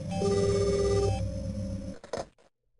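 A telephone in Silent Hill Play Novel rings with a loud electronic tone for about a second, then stops, followed by a short clatter of the receiver and silence.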